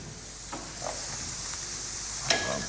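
Carambola sizzles and fries in a pan with a steady hiss, broken by a few soft stirring scrapes and clicks.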